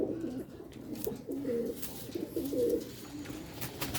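Pigeons in a rooftop breeder loft coo repeatedly in soft, low rolling calls close by, over a faint background hum with no talking.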